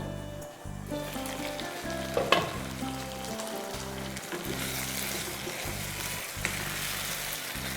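Mutton rezala simmers in a covered pot, giving a steady, soft sizzle and bubbling hiss that continues evenly, with a faint low, repeating hum underneath and a couple of brief clinks.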